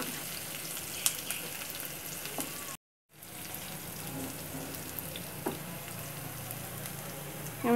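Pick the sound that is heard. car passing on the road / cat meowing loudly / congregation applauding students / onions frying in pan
onions frying in pan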